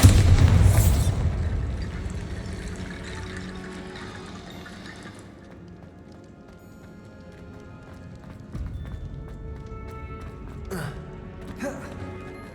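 A Bombarda spell blasts in Hogwarts Legacy: a heavy, booming explosion opens loudly, then a long rumbling tail fades, and fainter clattering thumps follow later.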